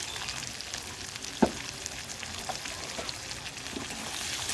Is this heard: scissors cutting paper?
no